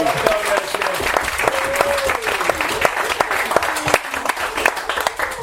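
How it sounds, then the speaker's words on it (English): Wedding guests at a reception giving a round of applause during the speeches, dense and loud clapping sustained throughout, with crisp individual claps standing out and a voice carrying faintly beneath. "And I think he deserves a round of applause."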